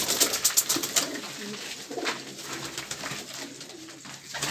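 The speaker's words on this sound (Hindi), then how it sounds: "देखो जी फुल एंजॉय हो रहे हैं कबूतर सारे" Pigeons coo softly in a loft in Faisalabad, with a flurry of quick clicks and flutters at the start, then a steady murmur of overlapping low cooing.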